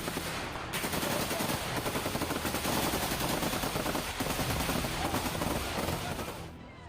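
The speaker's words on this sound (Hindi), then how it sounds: "गोलियां चलने की आवाज कैमरे में रिकॉर्ड हुई।" Rapid bursts of automatic gunfire from the Israeli army in Gaza, crackling continuously and loud for about six seconds with dense overlapping shots and no pauses, then fading out at the end.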